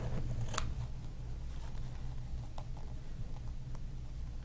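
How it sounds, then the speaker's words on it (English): Scissors snip through ribbon for a handmade baby blanket toy, a few sharp crisp cuts spaced apart over a low steady room hum. "cut the ribbon."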